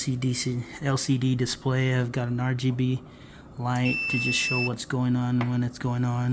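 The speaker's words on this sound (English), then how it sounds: "You can hear the buzzer going off." An automatic plant watering system with a water pump and moisture sensor sounds its electronic buzzer, a steady two-toned beep lasting about a second while a person keeps talking over it.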